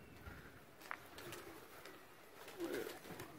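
Pigeons coo faintly in a quiet outdoor setting where a white pigeon has been caught, with a few soft, brief calls scattered across the moment and no talking.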